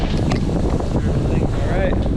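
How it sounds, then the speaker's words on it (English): Strong wind buffets the microphone throughout a road bike ride, a steady broadband roar with gusty low rumble, while a rider speaks briefly over it. "And it is windy."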